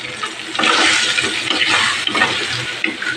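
Spice paste with Kashmiri red chili powder hits hot oil in a pan while shoal fish is being cooked, bursting into a loud, broad sizzle that holds steady with slight crackling surges.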